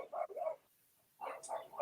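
A dog barks in short bursts at moderate distance, a pair of quick yips, a brief pause, then another run of barks, with no talking.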